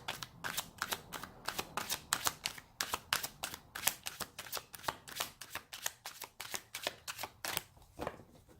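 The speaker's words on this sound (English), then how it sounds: "Let's get some cards pulled for our mental, physical, emotional," Tarot cards riffled and shuffled by hand, a rapid steady run of crisp flapping snaps at close range, with no talking.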